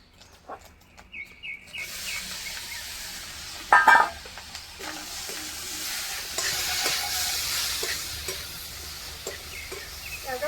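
Chopped bottle gourd is tipped into a pan where crumbled fish roe has been frying, bringing a brief loud clatter near the start. A steady sizzle and stirring scrapes follow, with no talking.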